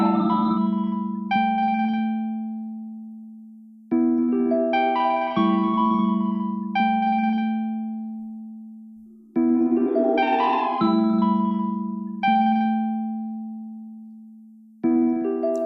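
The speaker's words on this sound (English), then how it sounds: "we're getting the reverb coming in here" Sustained synth or keyboard notes played in phrases through the Klevgrand Walls reverb plugin, each one ringing out with a long reverberant tail that slowly decays between notes.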